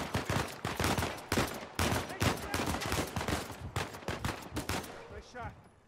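Rapid gunfire in the Uncharted 4 video game, dense continuous bursts of shots with loud overlapping cracks filling the mix, while players talk over it.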